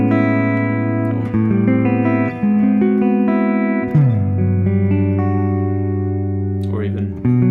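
Guitar chords with open strings left ringing, several sustained and overlapping voicings that shift one after another with a rich, resonant tone and no voices.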